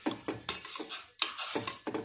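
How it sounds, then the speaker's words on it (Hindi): A spoon stirs a homemade orange vitamin C serum mixture in a small vessel, making quick, close scraping and clinking strokes in a short irregular rhythm, with no talking. "1 चम्मच हम इसमें और डालेंगे, इसे अच्छे से मिक्स कर देंगे"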